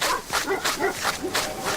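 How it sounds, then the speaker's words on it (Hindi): Several dogs bark on a beach at night in a burst of rapid, overlapping yaps, moderately loud and slightly distant, with no voices over them. "कुत्तों की आवाज जरूर आ रही थी"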